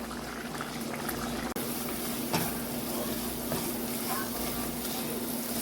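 A pot of coconut sugar cake mixture bubbles and boils down steadily on the stove, a continuous close simmering hiss with a soft low hum, and one brief knock partway through.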